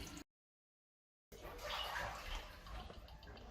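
A toilet tank refills after a flush valve seal repair, with water rushing and hissing steadily after a brief silence and continuing close and moderately loud.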